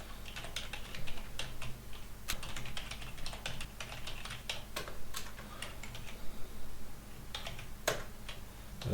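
Steady, uneven keystrokes on a computer keyboard as a commit message is typed, close and clear with short pauses between bursts and no talking.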